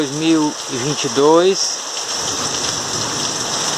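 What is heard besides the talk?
heavy rain at night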